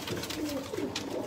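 A Sialkoti pigeon gives a short, soft coo nearby, a single low warbling call over faint background noise.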